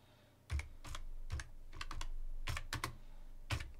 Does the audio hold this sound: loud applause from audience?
no